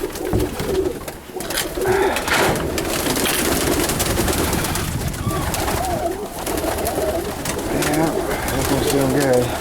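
Pigeons in a backyard loft coo continuously in soft, throaty repeating phrases, several birds overlapping, under steady background noise with someone speaking briefly nearby.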